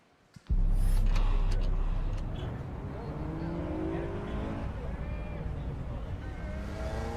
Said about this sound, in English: Here it is, the Acura Integra prototype.